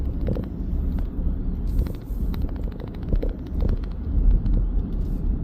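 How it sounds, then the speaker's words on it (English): Low, rumbling wind buffeting a moving Ford Ranger 3.2 TDCi Wildtrak from its roof light bar, with steady road noise and a few faint clicks underneath. "You are going to get a little bit of wind noise from the light bar on the roof."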